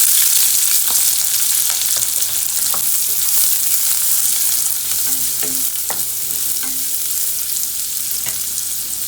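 Chopped onions frying in about three spoons of oil for a small cucumber curry, a steady hissing sizzle with occasional soft clicks of a spoon stirring the pan, close and continuous, no talking.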